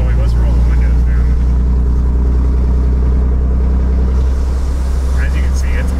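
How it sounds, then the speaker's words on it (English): Loud, constant low road roar and wind rush inside a moving truck with the windows open, voices talking over the steady din. "But really the biggest thing is the noise, just the road noise."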